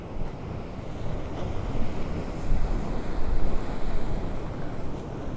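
Black Sea waves wash against the shore at Arcadia beach in Odesa in a continuous rumbling surge, with strong wind buffeting the microphone throughout.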